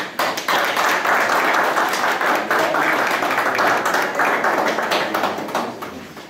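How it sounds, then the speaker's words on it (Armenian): Dense, sustained applause from a crowd inside a polling station in Etchmiadzin during local elections as the mayor walks in, holding steady for several seconds and then tapering off toward the end. "ներս մտնելուն պես հնչեցրին ծափահարություններ"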